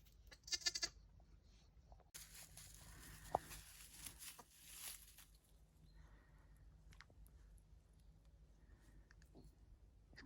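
Newborn lambs from a first-time ewe on a Peak District sheep farm bleat in a few short, fairly faint cries, mixed with scattered clicks and light rustling.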